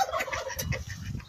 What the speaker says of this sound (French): Ici, du coup, on a les dindons.